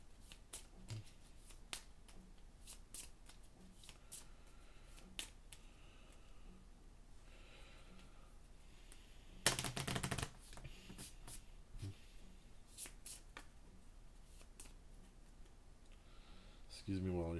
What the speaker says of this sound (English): Excuse me while I shuffle.